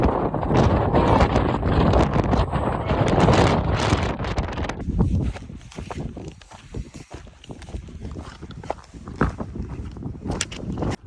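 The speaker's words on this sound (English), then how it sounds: "It is very windy" Strong gusts of wind on a mountain summit in Tasmania buffet the microphone in loud roaring bursts, easing partway through and then returning in uneven gusts.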